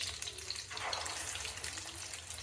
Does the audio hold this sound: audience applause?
no